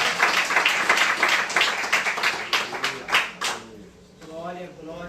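A church congregation claps and applauds during a worship service, a dense burst of hand claps that fades out by the fourth second, after which a voice speaks in the room.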